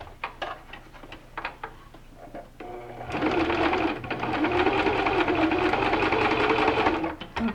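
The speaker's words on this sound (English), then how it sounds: "we've folded this in half and we're just gonna sew 1/4 inch" A sewing machine runs steadily for about four seconds, stitching a quarter-inch seam along folded quilting fabric for a Dresden plate block, after a few quieter clicks and brief starts; the motor hum is loud and continuous.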